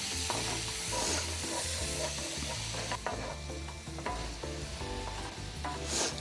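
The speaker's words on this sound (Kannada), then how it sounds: "ಸೊ ಇದಕ್ಕೆ ಈಗ ಮಿನ್ಸ್ ಮಾಡಿರೋ ಗಾರ್ಲಿಕ್ ಹಾಕೋತೀನಿ. ಆ್ಯಂಡ್ ಸ್ವಲ್ಪ ಈರುಳ್ಳಿ ಹಾಕೋತೀನಿ." Minced garlic and onion fry in a pan with a steady, close sizzle, while a utensil scrapes and stirs in a repeated rhythm; no talk is heard.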